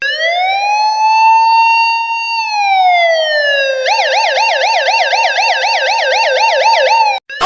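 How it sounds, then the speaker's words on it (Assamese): Cartoon police car siren, loud and close, starting as a long rising and falling wail, then switching to a fast regular warble for several seconds before cutting off abruptly. "এই পুলিচে চাইলেণ্ট বজাই বজাই অহা শুনা নাই নেকি?"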